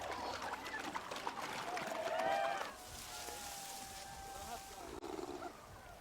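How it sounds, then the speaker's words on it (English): Grumpy seals roaring on a riverbank, with drawn-out moaning growls rising and falling in the first half, then a thinner wavering call, over outdoor background noise with a voice talking. "There's 2 really, really grumpy seals."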